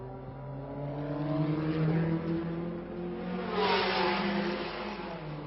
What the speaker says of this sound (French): Voici Bandini qui passe devant les stands